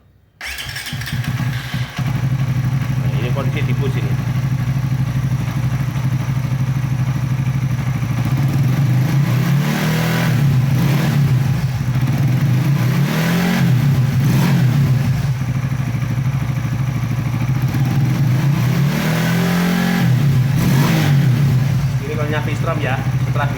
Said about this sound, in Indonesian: Oke, kita nyalakan motor.